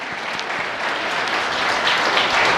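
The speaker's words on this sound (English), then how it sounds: "How about a big round of applause for Chanel?" A keynote audience at a Lenovo Transform event in New York claps in a dense, sustained round of applause that swells slightly toward the end, with no voices standing out.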